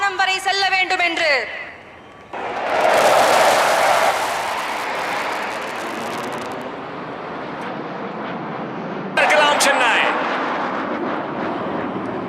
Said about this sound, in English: the air show featured Rafale, Sukhoi 30 MKIs, Mirage 2000s, Airbus C-295MWs, MiG-29 fighters